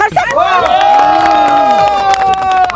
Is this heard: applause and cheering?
yes